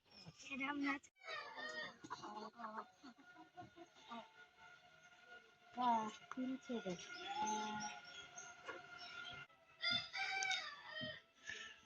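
Chickens on a village homestead, with a rooster crowing and hens clucking in the yard amid household noise and people talking throughout.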